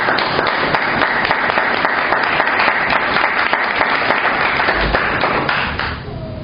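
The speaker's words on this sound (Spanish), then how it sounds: "Denme un fuerte aplauso de bienvenida." A church congregation gives loud, sustained applause to welcome the start of a Spanish-language sermon. Dense, even clapping fills the room and eases off slightly near the end.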